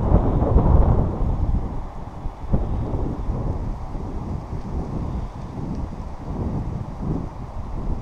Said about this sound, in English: it's a little windy today as well